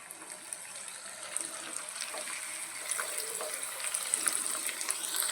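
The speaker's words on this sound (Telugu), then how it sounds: "ఆయిల్లో ఒక్కొక్కటి ఇలాగా వేద్దాం." Lentil chegodilu dough pieces dropped one by one into hot oil, giving a soft, steady bubbling sizzle with faint crackles throughout, fairly quiet and without speech.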